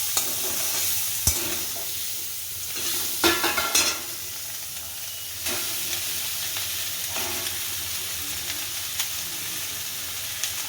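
Broken wheat (dalia) goes into a pan on lowered heat for a weight-loss pulao and gets stirred, giving a steady soft sizzle with scraping strokes and a few sharper clatters, close and continuous, no voices.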